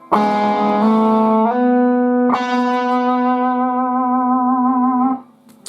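Distorted electric guitar playing a riff, a few sustained, bright single notes with a slide up and a long ringing final note before it stops.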